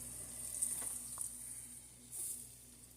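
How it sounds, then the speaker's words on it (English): A sizzling mixture for oxtails being stirred in a pot until golden brown, a brief soft hiss with a few faint scraping stir strokes, close and quiet. "just going to keep stirring until this gets golden brown"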